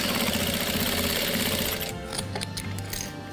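A sewing machine stitches a patchwork quilt, running as a loud, continuous, close whir that cuts off partway through, leaving a few faint clicks and handling noises.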